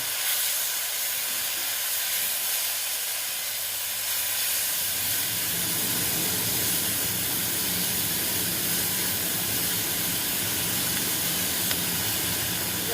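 Tomatoes and prawns go into a hot pan on a gas stove in a Bengali egg curry kitchen, setting off a steady, loud hiss of frying that grows denser partway through and carries on alone without talk.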